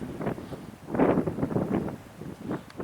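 Strong gusty wind buffeting the microphone out in the Arizona desert, loud irregular roaring surges rising and falling close up with no talk.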